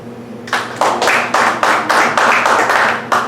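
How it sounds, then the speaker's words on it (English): A comedy-club audience in Benson, Arizona claps in a burst of scattered, overlapping hand claps, nearby and fairly loud, rising quickly and holding steady for a few seconds. "clap your hands if you've been to downtown Tucson."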